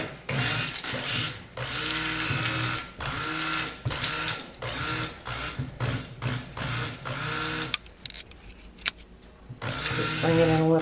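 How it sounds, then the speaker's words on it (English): A stick blender whirs through soap-making oils, running in repeated bursts with brief pauses and a final stretch near the end. It sounds close and steady, with no talking. "So I'm going to just take my stick blender."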